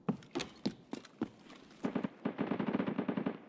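Automatic gunfire in the shooter game Escape from Tarkov: rapid, loud bursts of shots, first scattered and then a dense rattling volley, with no talking.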